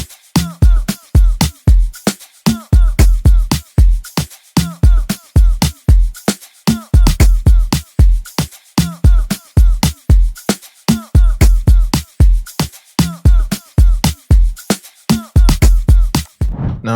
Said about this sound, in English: And this is what the drums sound like on its own.